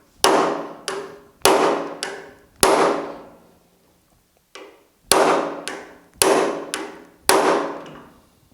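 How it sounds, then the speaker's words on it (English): Repeated sharp metallic hammer whacks on a stuck screw in a car door, about nine close strikes in uneven bursts with short ringing decays. "Let's give it a few more whacks and see what it's going to do."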